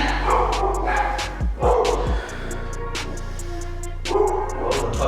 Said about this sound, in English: The puppies are pissed off now.